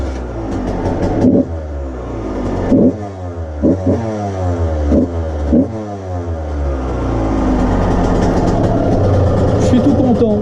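A renovated 125cc motorbike engine runs close by, revving in several sharp bursts before settling into a steady idle, with someone talking over it.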